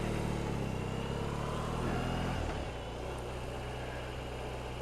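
A BMW R18 motorcycle, a heavy 345-kilo bike, pulls away in first gear with a deep, throbbing engine note that rises briefly, then settles into a steady lower drone, close and without talk.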